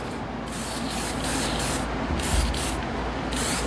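Airbrush spraying a light, even finish coat of acrylic sealer over a dyed leather patch, a steady close hiss running throughout with soft breaks in tone, no voices.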